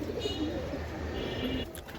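A male racing pigeon coos softly in low, rolling murmurs over a steady background hiss, with no talking.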